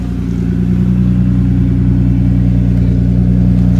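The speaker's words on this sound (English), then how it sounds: "So we got a healthy exhaust note." A BMW E90 328i engine idles steadily, a loud, close, low rumble with an even throb and no talking.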